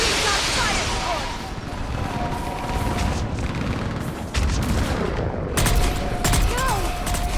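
Mass Effect 3 battle with bursts of sustained gunfire and explosive cracks under a dense combat din, loudest in sharp volleys toward the end, while voices shout over the fighting.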